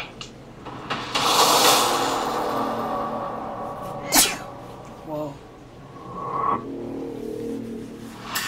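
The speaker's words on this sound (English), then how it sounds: "So fire made me sneeze." A sharp sneeze bursts out midway, amid breathy sniffing and shuffling noises close by.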